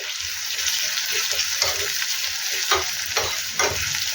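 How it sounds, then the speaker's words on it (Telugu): Spices tempering in hot oil sizzle with a steady, close, bright crackle, punctuated by a few sharper spits and stirring scrapes, with no talking. "అది పోపు అండి."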